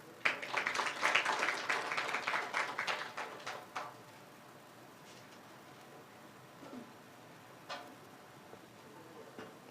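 An audience applauds after a speech at an event with a High Commissioner, a dense burst of clapping that fades away after a few seconds, leaving a few scattered late claps and faint sounds.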